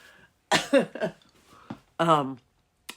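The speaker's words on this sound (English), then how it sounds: "so that was a coughing fit" A person coughs several times in quick succession, harsh and close, with short gaps of quiet between the coughs.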